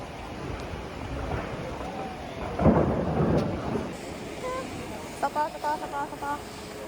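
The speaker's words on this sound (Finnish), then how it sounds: "Sitten hetken päästä alkoi ihan hirveä kaatosado ja ukkone." Thunder rumbles through a heavy downpour during a storm with hail, a deep roll building mid-way over steady rain hiss, with a person's voice faintly audible and a few short tonal chirps near the end.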